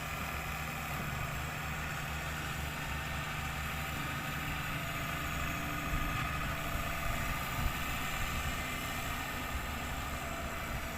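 A large farm tractor's diesel engine idles steadily at a low, constant rumble, unchanging and moderately distant, with no other sounds standing out.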